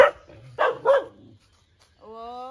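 A dog gives a couple of quick barks close by, followed after a short pause by a high, drawn-out whine.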